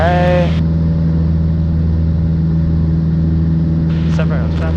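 A Cessna light aircraft engine drones steadily and loudly from inside the cockpit during a crosswind turn, with brief cabin voices at the start and end over the constant hum.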